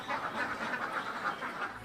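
Egg-laying ducks at a small farm in Aceh quack in a steady, overlapping chorus of rapid repeated calls at moderate distance, with no voices.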